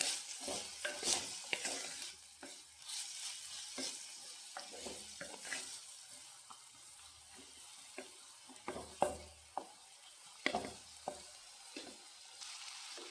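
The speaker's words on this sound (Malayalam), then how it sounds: "ഇളക്കി ഇടയ്ക്ക് ഇളക്കി കൊടുക്കുക" Long bean thoran being stirred in a pan, with quiet frying and a series of irregular scraping and tapping strokes, some sharper clinks standing out, close by with no talking.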